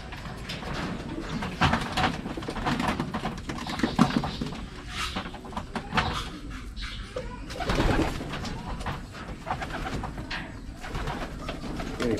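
Young racing pigeons coo and flutter close by in a loft, with repeated soft calls, scattered wing flaps and scuffling noises throughout.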